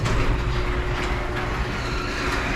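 A garage door opener runs at home, lifting the door with a steady, loud mechanical rumble and drone from the motor and rail, continuous throughout without speech.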